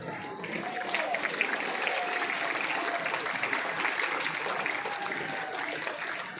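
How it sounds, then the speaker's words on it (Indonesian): Audience clapping at a National Education Day school ceremony at MAN 1 Sintang in Indonesia, a steady, fairly soft wash of many hands lasting several seconds, with faint crowd murmur mixed in. "Tepuk tangan."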